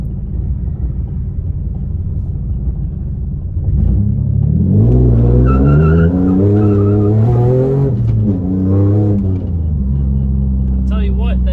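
A Mitsubishi 3G Eclipse with a new torque damper and motor mounts accelerates hard from a stop. Its engine climbs loudly through the revs, with a shift and a second pull, over a steady cabin rumble before and after.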